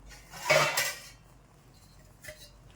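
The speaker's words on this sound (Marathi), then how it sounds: "त्यावर झाकण ठेवूया आपण आणि त्याला मंद आचार शिजू देऊया" A metal lid is set onto a cooking pot of cake batter steaming on a low gas flame without an oven, giving one short clattering clink of metal on metal, followed by a faint second tap.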